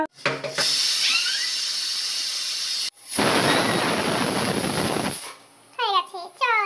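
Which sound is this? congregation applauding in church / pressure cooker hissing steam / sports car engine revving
pressure cooker hissing steam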